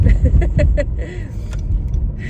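Traffic moves past an apartment in a small capital city, a close low rumble of vehicles with a few sharp clicks and knocks, loud at first and then easing to a steadier drone.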